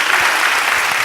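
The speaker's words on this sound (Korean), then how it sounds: "여러분들 박수로 한번 환영해 주시기 바랍니다" A church congregation bursts into applause to welcome a guest during a special late-night worship service, a dense, steady wash of many hands clapping close by with no talking over it.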